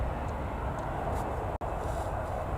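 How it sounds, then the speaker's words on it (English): EasyJet airliner arriving at Newcastle Airport, a steady broad jet roar heard from a distance outdoors, continuous throughout apart from one sharp momentary dropout. "So this is the next EasyJet inbound"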